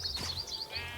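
A sheep bleats in a farming video game, a short wavering bleat heard close and clear with a faint low hum underneath.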